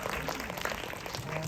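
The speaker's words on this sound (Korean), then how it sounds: "입장하고 계시니까 큰 박수로 맞이해주세요" Audience clapping to welcome guests at a drama premiere screening, a steady, moderately quiet patter of many hands over a short stretch with faint voices mixed in.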